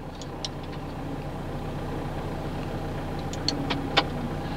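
Power door locks on a 1998 VW Jetta TDI turbo diesel clack shut in a few quick sharp clicks near the end, heard over the car's steady low idle.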